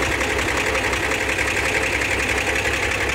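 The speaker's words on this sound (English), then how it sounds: "Actually, idles pretty well. Not only is the engine running," A refurbished 1964 Corvair coupe's engine idles steadily up close, a continuous even rumble with slight knocking texture and no talking.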